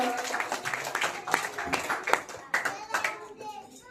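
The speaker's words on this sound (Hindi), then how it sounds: "जोरदार ताली एक बार और।" Audience clapping at a school annual award ceremony in a Hindi education centre, with scattered, uneven hand claps continuing for several seconds, mixed with children's voices and a speaker talking over it.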